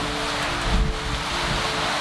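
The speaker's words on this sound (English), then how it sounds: "Boat slamming and rolling" Sailboat Rio pitching and slamming through rough seas and squalls, with a roughly 3-meter following swell colliding with other waves. A dense, steady roar of wind and water surrounds the hull, with a heavier thudding surge near the middle.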